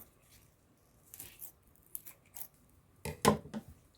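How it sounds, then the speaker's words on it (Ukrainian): A few crisp snips of scissors cutting through leek roots, close up, the last cut sharper and louder, with soft handling noises between. "я ножицями це роблю"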